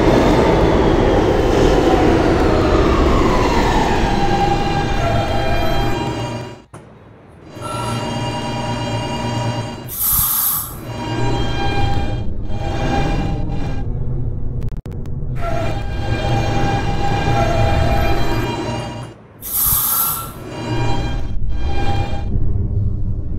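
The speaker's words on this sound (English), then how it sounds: "This is a Union Turnpike bound E train." Roblox subway simulation of an R160B Siemens E train running, a continuous rumbling rail drone with squealing wheels and whining motors, broken by brief pauses and sharp bursts of horn or brake hiss.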